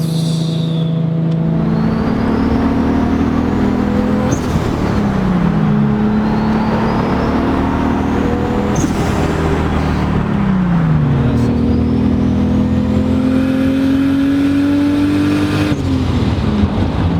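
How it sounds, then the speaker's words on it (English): A turbocharged Nissan 240SX with an RB26 engine revs up repeatedly through several gear shifts, the pitch climbing and dropping each time, loud and close, with a faint turbo whistle. "I love the turbo sound this car makes though."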